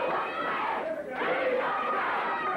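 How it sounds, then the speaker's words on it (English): Wrestling arena crowd at a 1979 GCW event roars and chants in a loud, continuous swell that dips briefly and rises again, with no commentary over it. "And you can hear the crowd picking it up."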